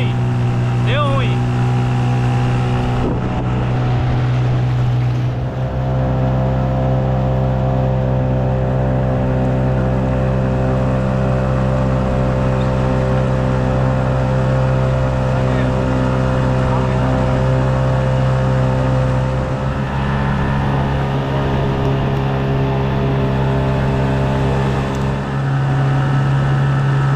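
Steady engine drone of a vehicle towing a fishing boat, with a motor that seems to have failed, a continuous loud hum with strong low harmonics throughout, with people talking over it.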